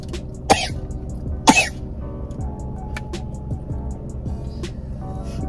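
A child coughs twice in a cold outdoor setting, two short bursts close to the mic over a steady background rumble of traffic or an engine.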